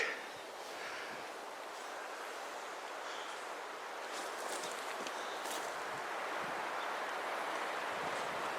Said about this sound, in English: That wind's howling up there.